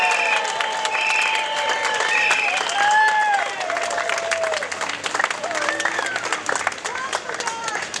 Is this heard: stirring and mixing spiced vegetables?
no